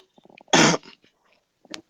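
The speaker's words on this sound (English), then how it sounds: "You heard a cough." A single sharp cough bursts out over an online voice call hangout, with faint muffled sounds before it and a brief softer noise afterward.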